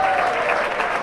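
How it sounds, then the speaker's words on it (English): Spectators at a village cricket cup final cheer and clap in a steady, moderately loud burst of applause from a small crowd, heard outdoors. "A lot of cheering going on."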